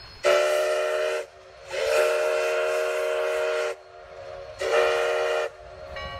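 A Sierra Railway steam train near the former Quartz Junction sounds three loud, steady whistle blasts, the middle one longest, over a faint rumble of the passing train.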